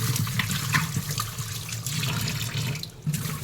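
Water sloshes and splashes in a bowl as fish are rinsed with salt and water, close and continuous with small bursts of handling and no talk.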